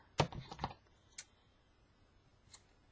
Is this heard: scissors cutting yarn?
yes